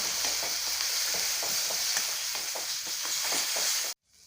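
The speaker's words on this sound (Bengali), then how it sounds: "আদা রসুনটা একটু ভেজে নেব" Ginger garlic paste fries with a dense, steady sizzle while a spoon stirs it in rhythmic scrapes, close and loud, cutting off abruptly near the end with no talk.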